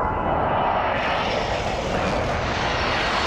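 An airplane roars overhead in the Warzone video game, a dense, loud, steady engine drone that fills the whole moment without voices.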